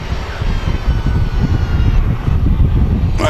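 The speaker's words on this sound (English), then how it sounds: "So we have a Jet2 737 on short finals here" Jet2 Boeing 737 on short final at Manchester Airport, a loud continuous engine roar and rumble heard from outside, steady throughout with wind buffeting the microphone.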